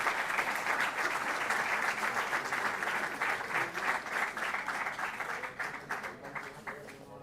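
Auditorium audience applauding student athletes at a university talk with the dean, a dense sustained round of clapping from a large crowd that fades slightly toward the end.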